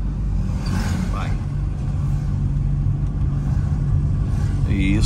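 A car engine hums and rumbles steadily as the car pulls forward and speeds up during a driving lesson. The noise holds at a loud, even level, and a voice talks over it at times.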